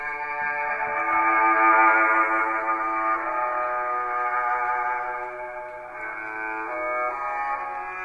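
A video game soundtrack plays through a Restoration Hardware mini iPhone gramophone horn, a sustained, tonal, echoing electronic melody that is steady and moderately quiet.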